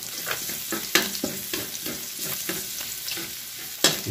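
Ground pork and garlic sizzle in a pan during stir-frying, a steady crackling hiss broken by repeated scraping strokes of a spatula at an uneven rhythm, close and moderately loud.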